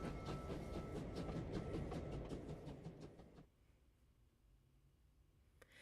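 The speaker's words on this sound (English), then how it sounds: "I've actually been on an old train like the one we just were on." A train rolls along rails in the video game Clair Obscur: Expedition 33, with a rhythmic clattering rumble for about three seconds that then cuts off to quiet background.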